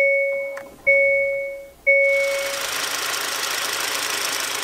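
A 2022 Hyundai Santa Cruz with a 2.5-liter turbo four and no block heater in use sits in 30-below cold. A few dashboard chimes sound first, then the engine cranks and catches into a steady, close idle.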